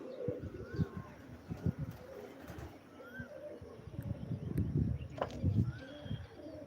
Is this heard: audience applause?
no